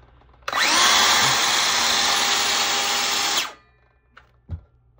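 A DeWalt DCS391 6 1/2-inch cordless circular saw whines loudly and steadily at full speed for about three seconds, then its electric brake drops it to a quick stop, followed by a couple of small clicks and knocks.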